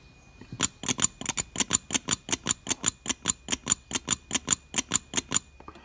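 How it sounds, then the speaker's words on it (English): Rapid, evenly spaced mechanical clicks of a Suzuki Quad Runner vacuum valve opening and closing under suction, about four per second, crisp and close with no voices. "I can hear a valve operating, and I'm not sucking air."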